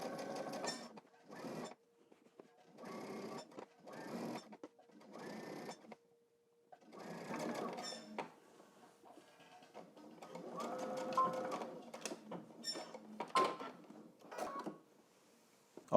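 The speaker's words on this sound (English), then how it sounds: "now we're going to backstitch at the beginning and also at the end" A sewing machine stitches a pocket bag seam on pleated trousers, running in short bursts with pauses for backstitching at the start and end, the later bursts a faster clatter.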